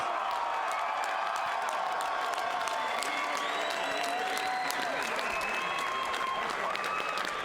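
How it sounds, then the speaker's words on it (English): Loud, sustained crowd applause with cheering fills an MMA event arena for two female fighters after three rounds, a steady wash of clapping from a large audience with no talk. "Fight fans, how about one more round of applause for both these fighters?"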